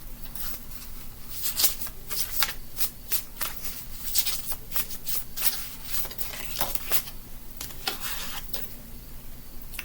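Tarot cards are shuffled close by in continuous rapid riffling, a crisp papery flutter with quick repeated bursts.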